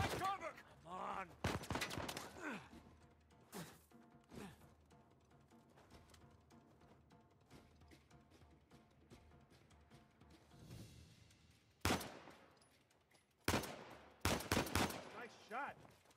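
Sniper gunfire in an Uncharted 4 firefight, sharp cracks and bursts bunched near the start and again toward the end, with quieter stretches between and voices calling out across the fight.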